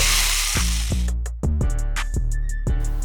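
A Saker mini cordless electric chainsaw runs loud and steady, its motor note dipping as the chain bites through backyard corn stalks, with several brief cutting surges over about three seconds and no talk.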